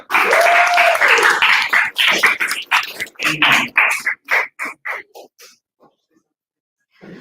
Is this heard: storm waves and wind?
no